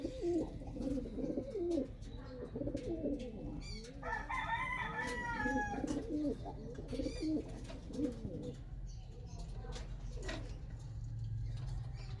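A flock of pigeons, including Benito Goki and pure Stichel birds, coo continuously up close in a busy loft, with a rooster-like crowing call rising in the middle over the steady throaty cooing.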